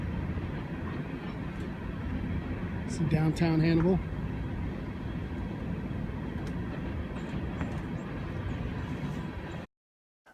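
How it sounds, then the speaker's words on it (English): An empty coal train rolls slowly through downtown Hannibal, a steady low rumble running throughout with a brief horn-like tonal blast partway, while someone talks over it. "there's a nice empty coal train slowly pulling through."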